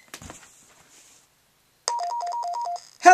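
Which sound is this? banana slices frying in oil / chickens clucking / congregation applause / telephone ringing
telephone ringing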